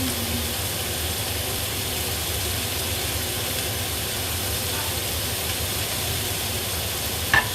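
Broccoli stir-frying in a hot oiled pan, a steady broad sizzle and hiss with soft stirring scrapes running throughout, near and fairly loud, with a brief sharp knock near the end.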